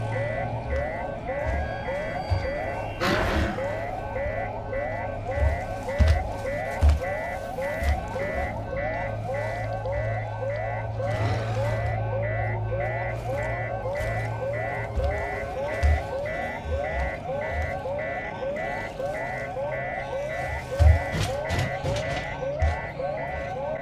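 An alarm blares in the video game Alien: Isolation, a steady repeating electronic tone pattern running loud and continuous throughout, with occasional thuds and clanks layered beneath it.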